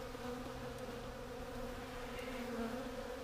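Honey bees from an overwintered colony buzzing steadily in an open hive, a dense, continuous droning hum at close range with no talking.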